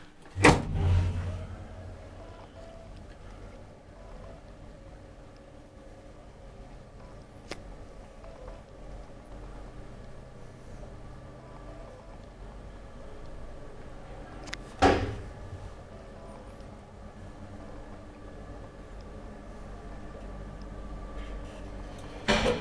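Old Kone traction elevator with a steady low machine hum throughout, plus a loud door clunk near the start and another around the middle, and no voices.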